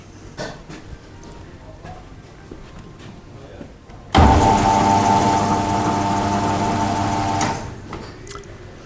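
An electric car lift lowers an Alfa Romeo 939 Spider 2.2 JTS a bit further in a workshop, a loud, steady motor whine starting suddenly and running about three seconds before stopping, with quieter workshop noise around it.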